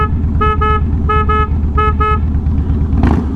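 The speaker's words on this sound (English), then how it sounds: "we got to go through our little tunnel here and honk our horn" Horn on a Harley-Davidson Softail Deluxe motorcycle honking in a tunnel, two pairs of quick double toots over the deep rumble of the idling engine, with a brief rushing burst near the end.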